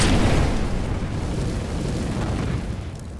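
A loud incendiary grenade bursts in CS:GO, a heavy boom and roar that peaks at once, then settles into a steady, dense crackling rumble that slowly fades.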